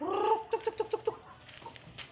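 Backyard native chickens calling close by, a run of five quick, evenly spaced clucks after a brief squawk, then softer scattered clucking trailing off.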